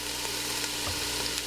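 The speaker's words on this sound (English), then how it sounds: "we're going to fry these just until they start to become soft" Vegetables for beef barley soup frying in a pot, a steady, dense sizzle close up with no talking, the crackle even and continuous throughout.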